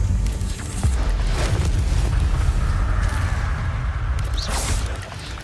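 A fire spell cast in Hogwarts Legacy gameplay gives a low rumbling whoosh and boom, a steady roaring burst of flame that fades near the end, with no voices over it.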